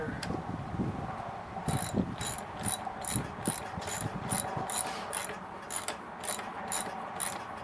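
A ratcheting wrench tightens a bolt during assembly of a Roadmaster by Hampton tricycle, giving quick, repeated metallic clicks in short bursts over faint background handling noise, fairly quiet and close.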